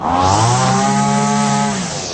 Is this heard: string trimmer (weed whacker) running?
yes